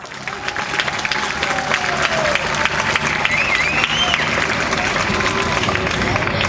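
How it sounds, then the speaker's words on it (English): Sustained applause from a large crowd at a bike-to-city-hall event, steady and loud throughout, with a few voices and cheers rising over the clapping. "Give yourselves a big round of applause."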